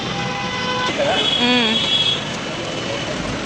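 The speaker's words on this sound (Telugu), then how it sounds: "ఇక్కడ దారుణంగా హారన్లు కొడుతున్నారు అసలు" Vehicle horns honk in short blasts amid traffic noise in Karol Bagh market, New Delhi, a couple of overlapping toots up close over a steady roadway rumble.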